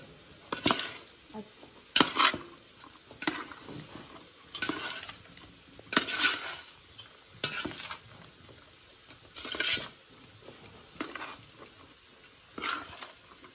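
Hot fried rice tossed and stirred in a pan in a homestay kitchen in the Kalimpong hills, with a spatula scraping in regular bursts every second or two over a faint background hiss.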